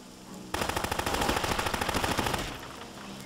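Rapid automatic gunfire in the World War II tactics video game Silent Storm, a loud sustained burst of evenly spaced shots lasting about two seconds, then a fading tail.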